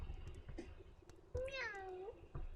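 A human voice does a soft, drawn-out cat meow imitation, a single rising-then-falling mew lasting under a second, close to the microphone in a quiet, whispery setting with small mouth noises around it.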